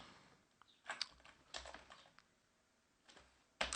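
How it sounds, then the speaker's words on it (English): Commands are typed on a computer keyboard in quick, uneven bursts of soft key clicks with short pauses between them, close and quiet in an otherwise still room. "I hate it when I have to retype these commands like this."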